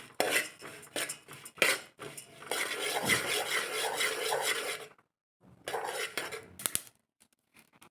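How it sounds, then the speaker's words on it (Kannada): Muskmelon seeds, dry-frying for laddu, are stirred and scraped in a pan with a metal spatula, giving steady gritty rasping in bursts with brief pauses and a few sharp clinks, no talking. "ಅದು ಸ್ವಲ್ಪ ಫ್ರೈ ಮಾಡ್ಕೋಬೇಕು, ಮಸ್ಕ್ ಮೆಲನ್ ಸೀಡ್ಸ್ನ."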